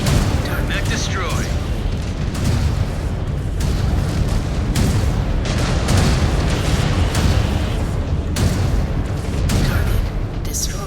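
A mech blowing apart in MechWarrior 5: Clans, heavy booming blasts and rumbling detonations layered over continuous battle noise, loud and close, with a voice speaking at moments.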